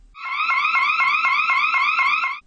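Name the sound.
siren blaring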